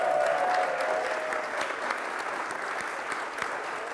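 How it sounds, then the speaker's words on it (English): Audience applause at a church forum on LGBTQ+ Pride, a steady dense clapping from a large crowd that starts loud and holds evenly for several seconds, with no talk over it. "let's give a warm applause to David."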